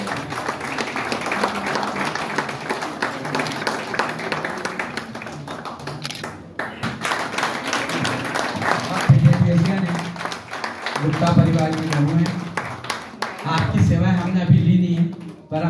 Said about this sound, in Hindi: जोरदार ताली बनती है।